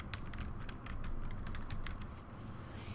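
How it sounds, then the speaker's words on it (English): Computer keyboard being typed on as an email address is entered, giving a rapid run of light key clicks, close and fairly quiet. "so I'll type in my email address."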